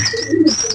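Domestic pigeons in a coop giving a short close cooing call, a brief low throaty coo with faint chirpy overtones, heard alone.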